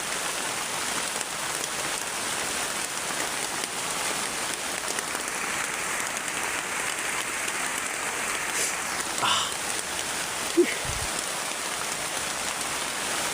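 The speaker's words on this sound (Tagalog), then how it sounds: "Sobrang lakas po ng ulan mga lods." Very heavy rain pours down on a mountain, a dense, constant roar of drops that hardly changes, with a few brief knocks and shuffles near the end.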